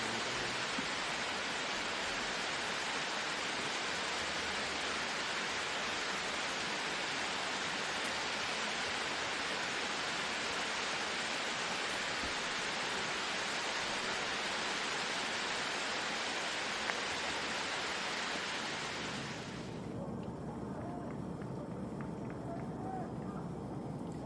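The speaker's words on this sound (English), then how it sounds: "Love that beautiful setting there for that waterfall on hole 16" A waterfall on hole 16 of a golf course, a steady broadband rush of falling water that holds evenly for about twenty seconds, then cuts to quieter ambience.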